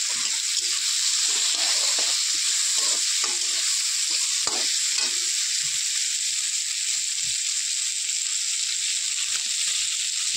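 Onions frying in a hot pan for a jackfruit curry, giving a steady loud sizzle throughout with occasional stirring scrapes, no talking.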